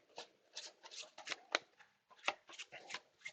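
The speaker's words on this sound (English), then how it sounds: "the discard pile gets shuffled back on top of the deck" A discard pile of playing cards being shuffled back onto the deck during a tabletop card game, a series of soft riffling and snapping bursts, close and fairly quiet, with a couple of sharper card snaps.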